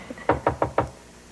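Four firm, evenly spaced knocks land on a hotel room door, close and crisp, then give way to quiet room tone.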